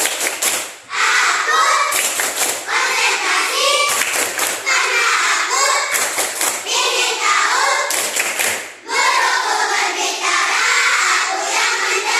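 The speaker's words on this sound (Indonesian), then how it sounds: "Kita tepuk konsentrasi dulu. Tepuk konsentrasi." Schoolchildren in a classroom perform a rhythmic concentration clap, chanting together as they clap in set patterns, repeated in loud bursts with short pauses between rounds.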